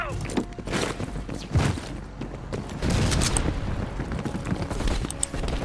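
Gunfire and explosions erupt in the video game Call of Duty: Black Ops Cold War, with bursts of rapid shots, booms and thuds in a dense, chaotic mix while shouted voices call out over the battle.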